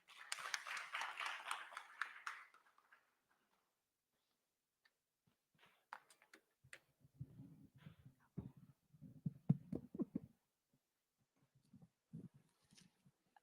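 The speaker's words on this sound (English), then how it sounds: "Let's give her a round of applause" Short burst of audience clapping for Dr. Margaret Karembo, director at ICER AfriCenter, at an event on food and the planet; clapping fades after about two seconds, then quiet talk follows.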